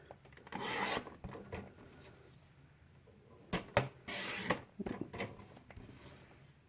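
Paper or card cut into strips at one-inch intervals for a craft-fair gift card holder, quiet close rasping slices and scrapes in short irregular bursts separated by near silence, with no talking.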